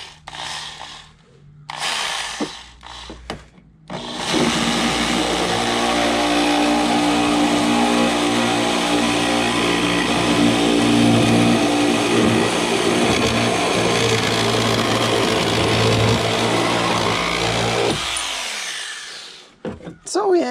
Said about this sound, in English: we'll start with the reciprocating saw, the one-hand recip